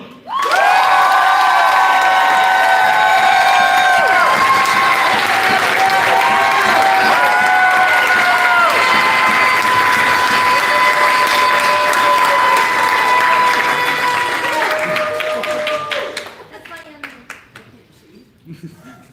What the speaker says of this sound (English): So, I would love for you all to give, again, righteous and raucous applause to our representative at MES this year and Iowa Allstate, Uneli Sa